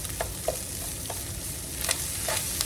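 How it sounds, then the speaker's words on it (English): Garlic sizzling gently in a pan with meat over lowered heat, a soft continuous frying hiss broken by a few light stirring scrapes and ticks. "I'm just letting that garlic cook a little bit to release the flavors"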